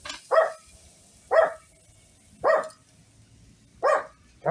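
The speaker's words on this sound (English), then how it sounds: "That's the Charlie barking at the neighbors" Dog named Charlie barking at the neighbours outdoors, five sharp single barks spaced about a second apart, clear and moderately close with quiet gaps between.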